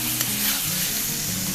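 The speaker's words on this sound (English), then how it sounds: "Just a quick saute to it." Masala with crushed kasuri methi sizzles and sautés in a pan for pindi chole, a steady close frying hiss with faint stirring scrapes.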